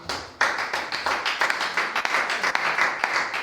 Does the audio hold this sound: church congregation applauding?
yes